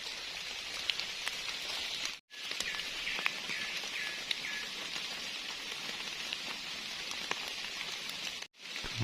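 Steady rain falls outdoors in a field where mushrooms are being gathered, a constant dense patter with scattered drops and faint bird chirps, broken by two short silent gaps.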